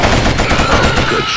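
Loud, rapid gunfire in the PlayStation 2 shooter Killzone rattles in a dense burst of shots throughout the short stretch.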